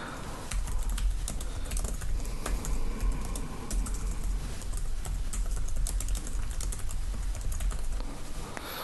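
Rapid clicks of a computer keyboard continue steadily at close range as text is entered into a form, with no talk over them.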